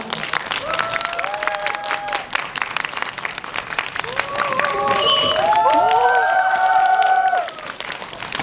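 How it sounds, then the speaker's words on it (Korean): A cinema audience applauds at a stage greeting for a film at CGV Sangam, steady dense clapping and cheering that swells louder midway, with whistles and voices calling out over it. "큰 박수 부탁드립니다"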